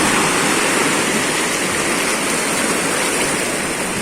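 Waves break against rocks on the shore at General Nakar, Quezon, a loud continuous roar of surf and spray filling the whole stretch without pause.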